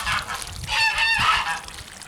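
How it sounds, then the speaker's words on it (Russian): Geese honk loudly and repeatedly at close range near water being poured on a garden bed, several overlapping calls in a short excited burst. "Гуси увидели воду, услышали и кричат."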